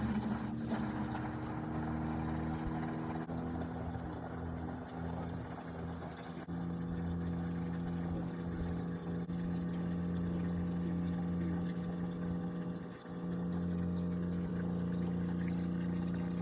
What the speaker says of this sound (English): I think I need to turn up the pressure on the pump.